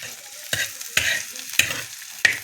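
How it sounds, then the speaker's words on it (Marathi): Onions sizzle in a hot pan with cumin, green chilli and garlic as a utensil scrapes and stirs four times in an uneven rhythm, the frying hiss continuing between strokes. "थोडासा कांदा आपण त्याच्यात परतावून घेणार आहे"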